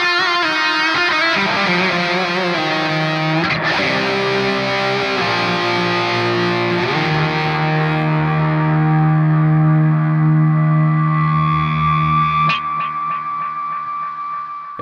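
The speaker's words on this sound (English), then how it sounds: "if we turn up the feedback, it'll give us that sort of endless delay sound" An electric guitar run through a delay with high feedback and distortion sustains sliding, smeared notes whose repeats pile up and ring on endlessly, loud and alone.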